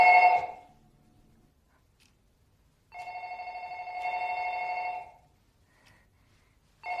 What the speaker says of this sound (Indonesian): telepon pun tiba-tiba berdering